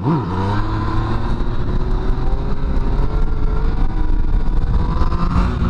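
A Yamaha FZ-09 motorcycle being ridden, its engine revving and rising in pitch through gear changes over continuous wind rush, loud and close throughout without talk.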